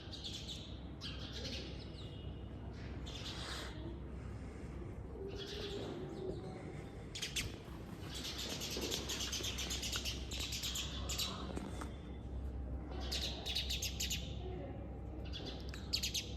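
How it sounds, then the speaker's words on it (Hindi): Birds chirp and tweet in short repeated bursts around a haveli courtyard in Bikaner, with occasional cooing over a steady low background hum and no talking. "कोई शोर शराबा नहीं सिवाय चिड़ियों की चहचहाट और ठंडी हवा की तरंगों के"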